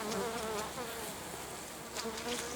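Honey bees buzzing densely inside a crowded hive during autumn inspection, a close, continuous droning hum with a wavering pitch and no voices.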